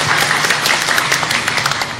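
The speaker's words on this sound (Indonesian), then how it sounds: "Iya, tepuk tangannya dong ibu-ibu semuanya." Women in an audience at a religious gathering clap together, a dense, steady patter of many hands sustained loudly throughout without pause.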